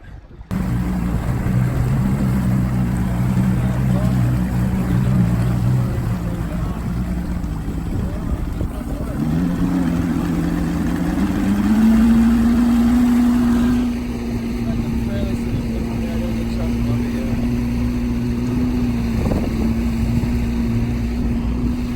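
A hydrofoil-fitted outboard motor on a boat drones steadily and loud up close, its pitch stepping higher as it speeds up, with a faint voice underneath.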